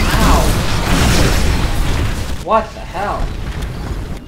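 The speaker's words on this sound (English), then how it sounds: "Get away from that explosion." An explosion in Titanfall crashes out as a loud, broad rumble across the opening seconds, amid ongoing game noise, and a startled voice speaks over it near the end.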